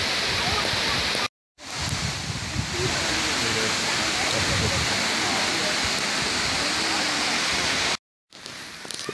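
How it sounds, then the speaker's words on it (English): The waterfall at Amicalola Falls State Park sends out a loud, steady rushing roar that fills the whole clip, broken only by two brief cuts to silence. "Those are the falls here, and they go over there and they fall down."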